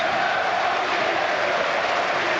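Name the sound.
standing applause from Orient supporters in the stadium stand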